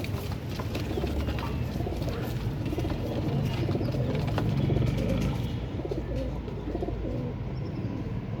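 Pigeons coo in a steady low murmur under a dense, noisy background, with occasional flutters and clicks.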